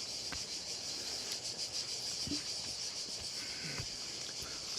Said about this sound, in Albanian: pra dëgjoni gjinkallat